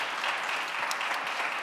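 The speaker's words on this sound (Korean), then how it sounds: "우리 하나님께 영광의 박수 올려드리겠습니다." Congregation clapping in church during a youth Sunday worship service, a brief steady wash of many hands from the room, moderately loud and even with no talking.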